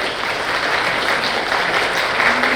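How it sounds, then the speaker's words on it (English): An audience at a technical conference session gives a sustained round of applause for the panel on stage, a thick, even wash of clapping held at full strength throughout. "let's give another big round of applause for our panel today"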